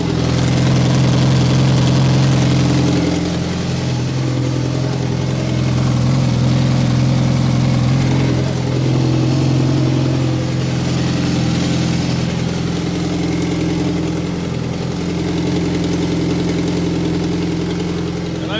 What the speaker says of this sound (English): we can hear the exhaust rattle a little bit